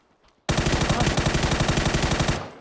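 A burst of rapid automatic gunfire in a video game, about twenty loud evenly spaced shots in a single sustained volley, then abruptly stopping.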